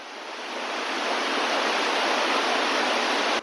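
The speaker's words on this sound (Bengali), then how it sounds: "এই যে ভীষণ বেগে জলটা পড়ছে, কি আওয়াজ।" Released water crashes down with great force, a loud, steady roar of dense rushing spray that holds unbroken throughout and cuts off abruptly at the end.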